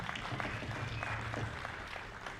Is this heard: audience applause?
yes